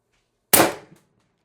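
A single sharp crack from an Umarex TR50 air rifle fitted with an 8-inch sniper barrel extension and running on high-pressure air, loud and close with a short decaying tail, alone in quiet.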